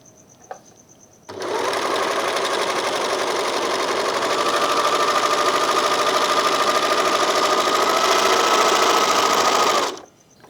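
Janome 644D serger sewing a rolled hem, a steady loud mechanical whir running about eight seconds at an even fast pace before stopping abruptly, close by with no voices.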